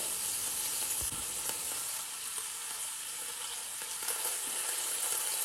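Beef roast searing in a hot pan, a steady, fairly quiet sizzle and crackle with occasional soft pops and tong clicks, heard alone without talk.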